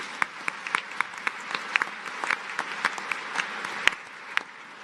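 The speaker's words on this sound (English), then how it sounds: "I think you should give him a clap" Audience at the Global Gender Summit in Kigali clapping for President Kagame, a moderate, fairly sparse applause with distinct individual claps popping out over a steady wash, sustained for several seconds.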